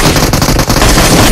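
Rapid automatic gunfire from a video game gun, loud and dense, with bursts of shots running almost without pause across the moment.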